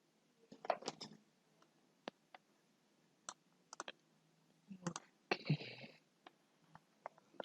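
Mouse clicks in the QGIS mapping software, a series of sharp separate taps with uneven gaps, some of them doubled, heard close and fairly faint over quiet room noise.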